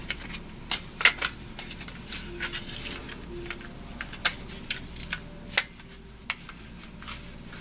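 A part for an RC throttle on a control-line model airplane is cut, heard as a series of sharp, irregular snips and clicks, close and fairly quiet, with small pauses between cuts.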